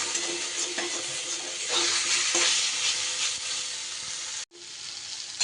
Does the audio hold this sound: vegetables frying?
yes